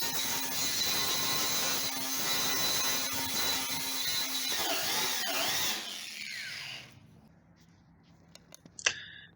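A wire wheel scrubs lead filler out of the seams of a car body, a steady harsh broadband grinding that runs loud for about six seconds, then cuts out, leaving a quiet tail with a few faint clicks.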